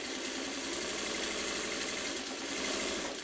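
A sewing machine stitching a seam on a quilt block: a continuous, even mechanical whir running steadily at close range without pause.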